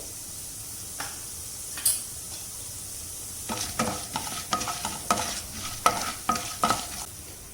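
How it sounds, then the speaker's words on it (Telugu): Chana dal and mustard seeds frying in two tablespoons of hot oil over medium-low flame, a quiet sizzle broken by a run of sharp clinks and scrapes from a spoon stirring against the pan, with no talking. "పప్పులు మీడియం టు లో ఫ్లేమ్ మీద గోల్డెన్ కలర్ వచ్చే వరకు వేగాలండి."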